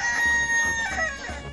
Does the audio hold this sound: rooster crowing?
yes